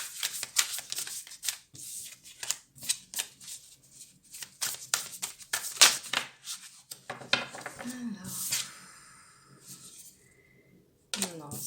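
Tarot cards being shuffled and drawn, with bursts of riffling and sliding card sounds in quick irregular clusters, close by, followed by a brief voice and a pause.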